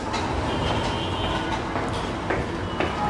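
An MRT train rumbles past near a city condo, a steady broad wash of rail noise with faint rhythmic clatter, heard from a distance and holding at a constant loudness.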